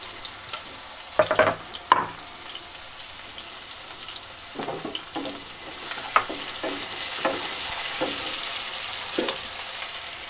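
Green garlic with its leaves frying and being stirred in a pan of hot oil: a steady soft sizzle with scattered crackles and a few louder stirring scrapes and clinks, close by, no voices.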